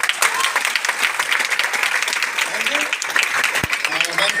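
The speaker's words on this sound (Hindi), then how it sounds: "तालियां से दिल से बजाओ, इस महफिल में भी जान आ जाए" An audience claps loudly and steadily throughout at a lively gathering, dense applause filling the room with a voice briefly audible over it.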